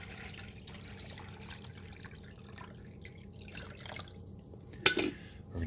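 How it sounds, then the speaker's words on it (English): Water poured into the back reservoir of a Mr. Coffee 12-cup programmable coffee maker, a faint trickling splash of liquid, with a sharper clatter near the end. "I'm just going to pour the water in the back."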